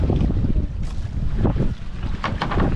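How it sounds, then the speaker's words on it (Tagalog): Strong wind buffets the microphone on a small fishing boat at sea, rough low rumbling gusts rising and falling with splashy bursts of noise, loud and close. "Yun naglakas yung hangin"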